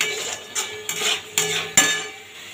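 Mutton ghugni is stirred in a metal pot, with four or five distinct clanks and scrapes of a spoon against the pot, close and spaced unevenly, with no voices.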